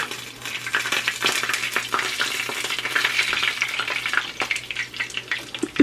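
Chicken being refried in a pan to crisp it up during a weekday morning at home: a steady, dense sizzle with crackling spatters and occasional scrapes and clinks of stirring, close and fairly loud, with no voices.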